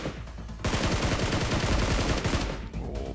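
Dense automatic gunfire in the PUBG Mobile battle royale game during an esports championship match, with rapid overlapping shots that build from a lighter start into a loud continuous barrage.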